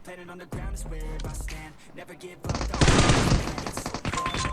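Gunfire in a shooting video game: scattered shots early, then a dense, loud burst of rapid automatic fire in the second half, mixed with other game sounds.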